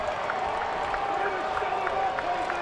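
A ballpark crowd boos steadily after Astros batter Jose Altuve hits a first-pitch home run on the road, a dense, sustained roar of many voices with no break.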